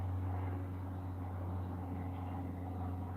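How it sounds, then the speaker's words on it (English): A fixed-wing airplane drones overhead on a clear day as a steady, continuous engine rumble with a strong low hum, holding level and fairly loud throughout with no voices. "God, is another airplane?"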